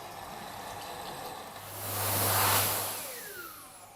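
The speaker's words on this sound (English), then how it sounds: "I'm going to wash my hands." Water runs steadily from a tap as hands are washed before climbing, a soft hiss that swells in the middle and then eases off, with no talking.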